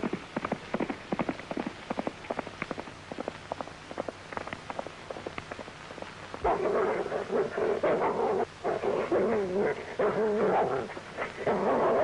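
A dog, Rin Tin Tin, barks in a rapid string of sharp yaps, then breaks into rough snarling and growling, loud and close over a steady hiss of background noise.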